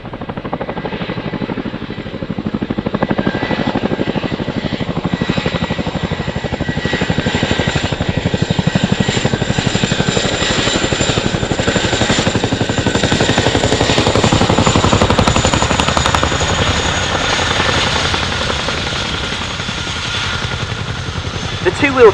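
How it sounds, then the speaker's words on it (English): A Chinook twin-rotor helicopter lands and taxis on its rear two wheels at the Dunsfold Wings and Wheels air show in 2018, a loud, continuous beating rotor roar with turbine whine that holds steady throughout, with a voice talking over it. "two-wheel taxi is a skill that is unique to the Cninook helicopter"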